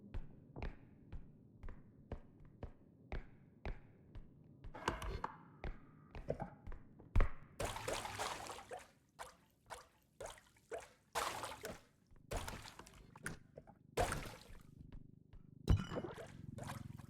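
Water trickling and dripping in the video game R.E.P.O., irregular soft drips and splashes spread across the scene, fairly quiet, with occasional voices in between.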